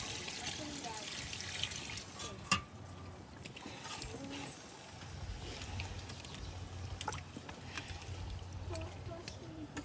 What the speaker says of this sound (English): Now that it's fried, it's time for the water.